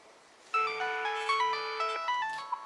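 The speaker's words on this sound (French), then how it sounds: "Il sonne, on l'entend là." A telephone ringing with a melodic electronic ringtone, a bright repeating tune of tones that starts abruptly and carries on for about two seconds, close and clear.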